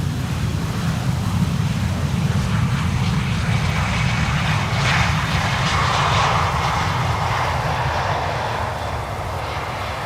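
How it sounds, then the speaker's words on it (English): A Vueling airliner arriving from Alicante lands on Schiphol's Polderbaan runway 18R, its engines a steady, loud roar with a low rumble that holds throughout, swelling slightly midway and tapering near the end, with wind noise mixed in. "Vueling flight 1375 arriving from Alicante"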